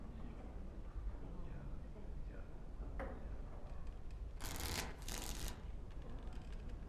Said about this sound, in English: Before we start, the cards must be shuffled.